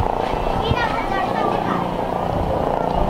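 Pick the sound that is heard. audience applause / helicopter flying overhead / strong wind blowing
helicopter flying overhead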